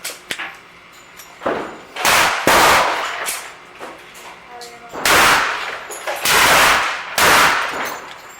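Gunshots from 5-shot wadcutter cast-bullet loads with 6.3 grains of 231 powder at an outdoor range: several loud, sharp cracks spaced a second or two apart, each with a short ringing decay.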